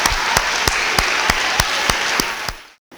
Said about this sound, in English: let's give them a big round of applause for being here every day.